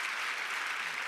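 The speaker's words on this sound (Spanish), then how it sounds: "eso se merece un aplauso al Señor" Brief burst of congregation applause at a church service, a steady dense wash of many hands clapping together with no voices, moderately loud and even throughout.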